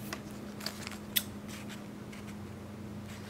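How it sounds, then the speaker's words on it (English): Scissors snip through origami paper to cut the points off a paper bow, with a few quiet, close, crisp cuts over a steady low hum. "I'm going to cut my points off."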